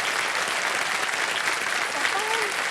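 A studio audience on a televised quiz show claps for a junior contestant, a dense, even burst of applause throughout, with a brief voice or tone rising faintly near the end.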